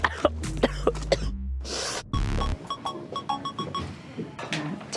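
Incessant coughing attack, a series of harsh, close coughs in rapid irregular bursts with throat clearing, loud and dominant over a bit of background noise.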